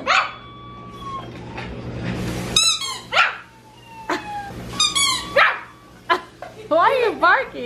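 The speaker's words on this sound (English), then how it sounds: "Why are you barking?" A dog barks and yips close by in short, repeated bursts, mixed with whiny yelps, while people's voices come and go.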